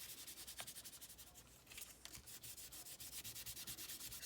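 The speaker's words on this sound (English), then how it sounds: "Now let's dampen our cloth a little more. There we go. And start rubbing." Damp cloth rubbed back and forth on scrap paper for aging and texture, quiet rhythmic scrubbing strokes that speed into an even, steady pattern, close and alone.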